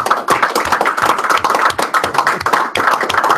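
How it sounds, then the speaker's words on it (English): During a live class, a close, loud burst of rapid clapping rolls on without pause, the sharp hand strikes overlapping in an uneven, busy patter that briefly dips near the end before picking up again. "We're going to start class today with giving O.J. Simpson that round of applause to make a parole."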